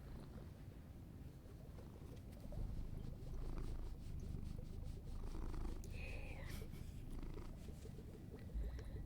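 A cat purrs steadily close to the microphone, a low continuous rumble with faint rustling; a brief voice speaks once near the start.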